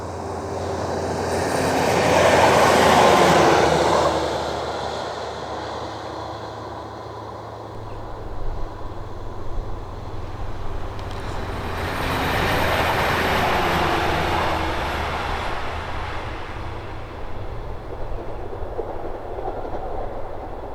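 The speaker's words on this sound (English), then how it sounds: "One last train filmed." A train hauling The Lakelander rumbles past on the railway line at Braunton on a sunny day, loud and broadband, swelling as it approaches, easing, then building again with a second passage of wagons, with no talk.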